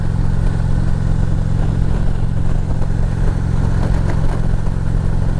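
A motorcycle rides at night on the road to Thunder Beach and Panama City Beach, Florida, its engine a loud, steady, close drone with continuous wind rush.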